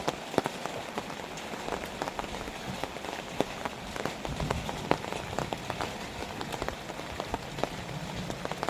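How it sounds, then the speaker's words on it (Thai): Rain falling at a house under construction, a steady dense patter of drops on hard surfaces with scattered sharper splats, continuous and fairly close throughout. "วันนี้ ฝนตกนะครับในขณะที่ มาถ่ายอัปเดต"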